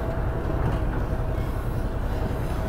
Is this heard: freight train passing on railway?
yes